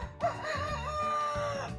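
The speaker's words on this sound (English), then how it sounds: "Chickens are going mad this morning, I don't know why." Chickens clucking excitedly around a rooster crowing close by on a rural morning near Inverness, one loud sustained crow dominating the short burst.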